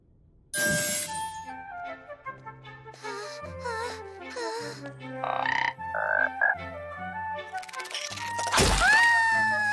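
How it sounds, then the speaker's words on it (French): Cartoon frog croaking amid bright musical tones and effects, several distinct croaks spread across the span, fairly loud, with a swelling sweep near the end and no talking. "La jolie grenouille."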